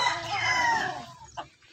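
A gamefowl rooster at a game farm gives one loud, close crow lasting about a second, followed by a brief softer cluck, with no talking.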